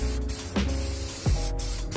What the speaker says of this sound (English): normally you want to spray one medium wet coat